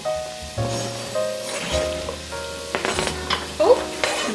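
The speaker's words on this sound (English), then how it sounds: "we're gonna add in all of our veggies" Onion and other vegetables tipped into a pan of olive oil over medium-low heat: a close, crackling sizzle like light rain, with clatters and a scrape from the pan, heard on its own.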